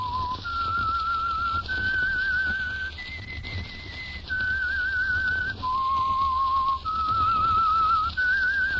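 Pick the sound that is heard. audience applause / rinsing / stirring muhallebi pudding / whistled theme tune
whistled theme tune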